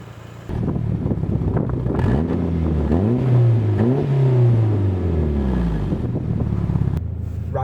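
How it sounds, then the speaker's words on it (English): A freshly imported Mitsubishi Evo 6 engine revs up and down, with loud rising and falling exhaust note and turbo sounds, close and continuous with some wind buffeting. "hopefully you can pick up the sound of the engine, the exhaust, and also the dump valve"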